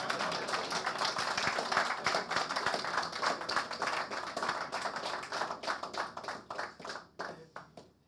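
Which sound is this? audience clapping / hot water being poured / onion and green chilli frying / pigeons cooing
audience clapping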